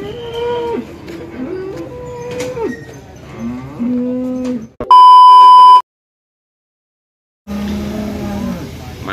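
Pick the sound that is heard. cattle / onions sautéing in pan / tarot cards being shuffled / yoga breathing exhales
cattle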